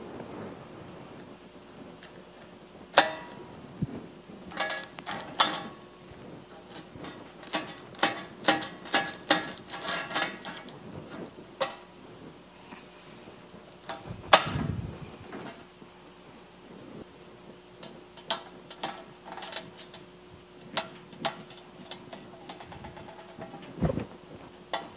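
A knife slices through a frame of honeycomb for chunk honey, giving soft scattered crunching and sticky clicks at irregular intervals, faint and close against a quiet room.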